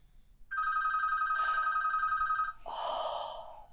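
A telephone rings with one long electronic trill that lasts about two seconds and is followed by a breathy, noisy sound, fairly loud and close.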